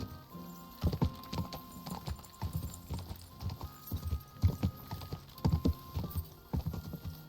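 Steady clip-clopping hooves of a horse in the video game Kingdom Come: Deliverance II, rhythmic and close, with a few faint clicks in the background.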